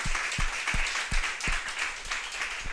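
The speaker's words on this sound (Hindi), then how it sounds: "ताली बजाओ प्रभु के लिए" A church congregation at a Sunday service claps together in a steady rhythm, about one sharp clap every third of a second, with a faint murmur of voices beneath.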